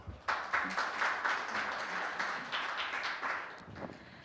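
An audience claps at a Korean forum on carbon neutrality and resource recycling after a presentation ends, giving steady, dense applause that swells quickly, holds, and fades over a few seconds in a large hall.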